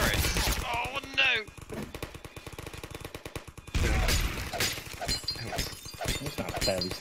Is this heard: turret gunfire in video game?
yes